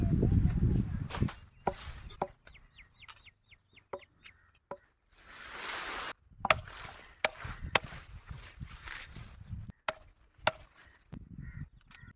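Mulberry stems are cut for planting with sharp, scattered chopping cracks in hot sun outdoors, alternating with quiet gaps and short loud rustling bursts, with a chicken clucking faintly in the background.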